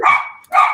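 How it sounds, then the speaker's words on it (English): A dog at a farm fruit market gives two sharp, close barks in quick succession, loud and alone. "Sorry, that's the dog."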